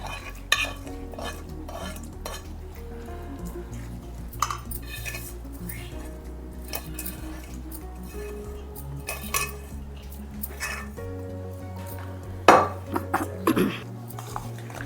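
Carrot pickle is mixed with salt, chili powder and a seasoning of tempered spices in a metal vessel, giving repeated scraping, clattering stirs of utensil against the pot at moderate volume with no talk.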